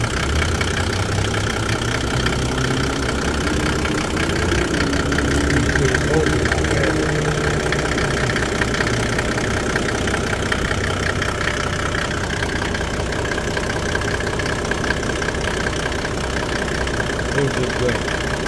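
A Mercedes-Benz OM606 turbodiesel engine with a faulty diaphragm that is not opening, running at a steady idle with a knocking diesel clatter, close and continuous throughout.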